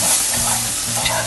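Yellow spice paste sizzles loudly in a pan while being stirred for mie godog, a steady close frying hiss with a soft scrape of stirring.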